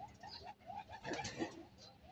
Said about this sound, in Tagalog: ito yung ating kalapate